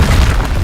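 A Confringo blasting spell explodes in Hogwarts Legacy, a single loud, close boom with a deep rumbling low end filling the whole short burst.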